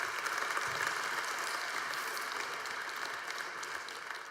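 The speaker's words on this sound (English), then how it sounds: "I think that deserves another round of applause" Audience applause at a mining conference plenary session, a steady wash of many hands clapping from start to finish at moderate level, easing slightly toward the end with no speech.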